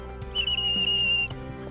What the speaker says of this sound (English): wave your arms above your head and blow your whistle